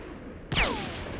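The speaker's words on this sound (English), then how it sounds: "Somebody else shooting a rifle way down there." A single distant rifle shot in the S.T.A.L.K.E.R.: Shadow of Chernobyl video game, a sharp crack at a fair distance followed by a long fading echo across open ground.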